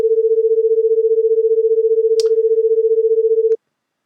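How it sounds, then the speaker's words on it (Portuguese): A steady tone pulses rapidly in volume as two close pitches, about 15 Hz apart, beat against each other, with a faint click midway, then stops abruptly. "Começa a ficar tão rápido o batimento que eu já não consigo perceber direito essa flutuação de amplitude"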